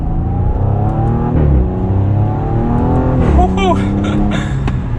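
A 2020 Audi S6 Prestige with a twin-turbo 2.9-liter V6 pulls away from first gear, a loud steady engine drone with rising harmonics as revs climb, heard from inside the car.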